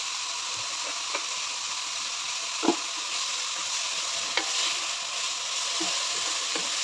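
Soy sauce hits chicken and vegetables frying for fried rice, giving a steady bright sizzle with scattered clicks and scrapes of stirring against the pan.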